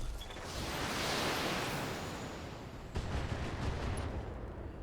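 Heavy mech weapons fire during a Battletech battle, a broad roaring blast that swells over the first couple of seconds, then a second sharp burst of impacts that rumbles on to the end, with no talk.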